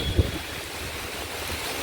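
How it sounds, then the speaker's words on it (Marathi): Strong wind gusts through heavy rain at night near Shiv Sena Bhavan, a steady roaring rush buffeting the microphone, broken only by a brief thump near the start, with no one speaking. "आणि वारा पण सुटला आहे जोरात आता पावसासोबत."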